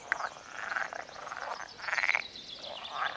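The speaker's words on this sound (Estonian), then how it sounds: "Need on rohelised rohukonnad." Common frogs, green frogs in mating season, croaking together at an evening pond: a dense, continuous chorus of rasping, pulsing croaks swelling and fading, with no talking.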